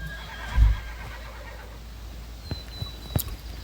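A horse in the Horse Valley video game gives a short, loud neigh, followed by a few soft, scattered hoof thuds over a steady background hum.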